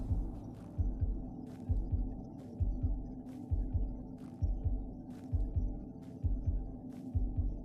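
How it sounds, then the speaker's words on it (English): A steady heartbeat sound effect pulses through a GeoGuessr World Championship 2024 esports broadcast, a regular low double thump repeating about every 0.6 seconds under a faint background hum, with no talking. "I hear the heartbeat and like the music"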